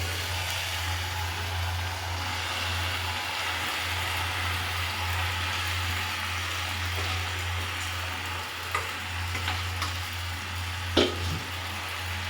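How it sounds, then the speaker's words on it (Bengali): Pasta being stirred in a hot frying pan gives a steady sizzle with a low hum underneath, broken near the end by a few sharp scrapes and clinks of the spoon. "পাস্তাগুলো দিয়ে নাড়াচাড়া করবো"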